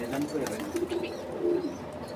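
Pigeons of assorted breeds kept for sale coo softly in a loft, several low throaty calls overlapping in a close, slightly noisy setting.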